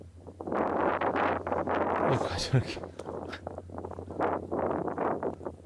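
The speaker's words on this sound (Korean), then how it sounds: "이제는 위에서 센 바람이 불기 시작했어요." Strong wind gusts from above buffet the microphone at a fishing spot, roaring continuously beneath someone speaking close by throughout.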